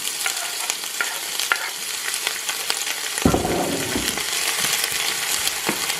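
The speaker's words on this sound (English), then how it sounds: "And now I am going to throw my seasonings in just to saute." Seasonings sauté in hot oil in a pan for Jamaican tinned mackerel, giving a loud, constant sizzle. A fresh surge of frying hiss comes midway as more goes in, with light stirring clinks and no voices.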